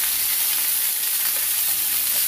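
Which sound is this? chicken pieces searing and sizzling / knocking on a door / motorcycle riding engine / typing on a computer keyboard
chicken pieces searing and sizzling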